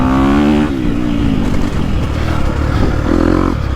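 A 2022 Honda CRF250R or KTM 250 Factory Edition dirt bike engine revving loudly up close, pitch rising then dipping and climbing again as the throttle rolls, alone with no voices.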